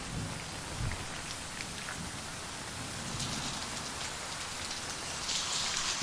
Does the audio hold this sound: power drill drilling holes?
no